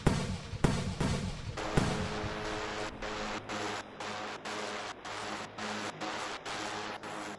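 Missiles firing from a build in the Roblox game Plane Crazy, with a few sharp launch bursts at the start followed by a continuous hissing, rushing roar broken by short regular gaps.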